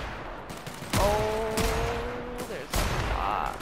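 Gunfire in The Outer Worlds video game: a few loud, sharp bursts of shots separated by short gaps, with brief speech at the start.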